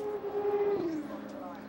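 A race car at the 2008 Sebring 12 Hours accelerates with a rising engine tone that sweeps past at a distance under commentators talking.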